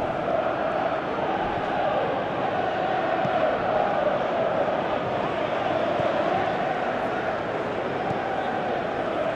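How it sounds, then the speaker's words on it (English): Simulated football stadium crowd in PES 2018, a steady dense roar of many voices holding at one loud level throughout with no clear peaks or talk standing out. "you can hear how the crowd are reacting to this too"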